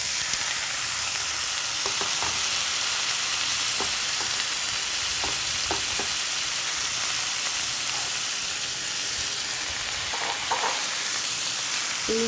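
Chopped carrot, capsicum, papaya, tomato and cabbage being stirred into a frying pan mixture: continuous loud sizzling with repeated scraping stir strokes of a spatula at irregular intervals, close up and without speech.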